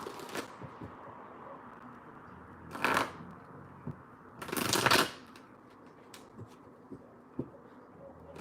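Tarot cards shuffled in two brief riffling bursts, near and fairly loud, separated by quiet rustling and soft card taps in an otherwise still room.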